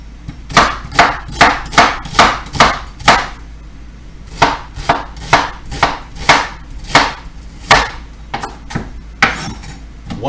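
Half an onion being chopped with a knife on a board: about twenty sharp, evenly paced knocks in quick runs separated by short pauses, close and clear.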